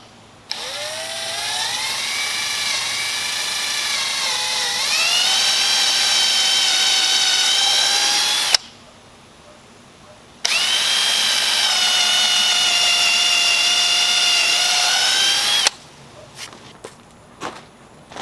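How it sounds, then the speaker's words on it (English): A power drill boring a 1/8 inch pilot hole through a utility box on a ballast box, running in two long, loud, steady bursts with a pitch that climbs partway through the first and stops between them, then a few light knocks. "drilling a 1/8 inch pilot hole"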